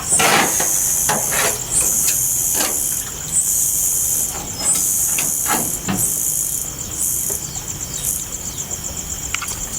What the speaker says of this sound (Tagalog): Sobrang lakas na ng ulan mga boss niyo